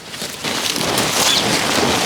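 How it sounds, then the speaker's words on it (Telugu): Rain falls steadily in a village setting, a dense, even patter and hiss that thickens after a brief quieter start and holds through to the end. "పైనుంచి వర్షం వస్తుంది"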